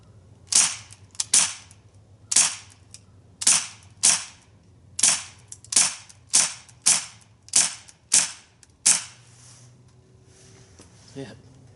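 Rifle shots at a chalk spinning target, about a dozen sharp cracks fired at a steady, spaced rhythm, each followed by a brief ringing decay, with quiet background between.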